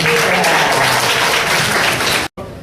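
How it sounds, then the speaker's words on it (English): Loud, dense applause from a seminar audience, a steady wash of many hands clapping that cuts off sharply near the end with a brief silence. "Please give applause"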